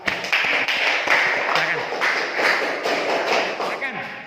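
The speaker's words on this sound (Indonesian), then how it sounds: "beri aplaus dulu untuk kelompok 2" Audience applause for group 2 during a university teacher-training class session, a dense patter of clapping that runs for several seconds beneath a speaker's voice.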